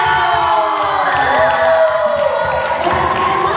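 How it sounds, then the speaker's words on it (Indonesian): A youth church audience at a devotional-reading competition applauds and cheers, with loud whoops and children's shouts over dense clapping throughout. "Kita berikan tepuk tangan."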